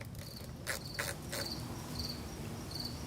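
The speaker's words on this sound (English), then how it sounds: "Crickets, I command you to lower your volume." Crickets chirp loudly and steadily at night, a dense insect drone with repeated chirp bursts running through the whole stretch, no voices.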